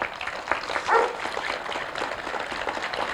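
Dog barks a few times at a ribbon-cutting ceremony for a new town police station, fairly distant and mixed into crowd noise and applause-like background murmur.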